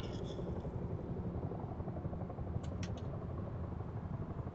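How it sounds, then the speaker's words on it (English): A helicopter flying in the video game Rust, a continuous low rotor and engine drone that stays steady and fairly loud throughout, with a few faint higher clicks near the end. "I'm flying a helicopter."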